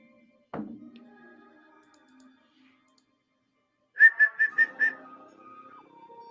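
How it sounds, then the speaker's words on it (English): A person whistles a short run of four or five bright, clipped notes, close and clear, preceded by a single sharp thunk and some quiet room noise, with a lower trailing tone at the end. "I whistle."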